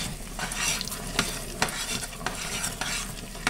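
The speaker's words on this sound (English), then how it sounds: "you do want to stir this occasionally" A spoon stirs thick, sticky peanut brittle in a hot pot, making repeated scraping strokes with soft sizzling underneath, close up and without talk.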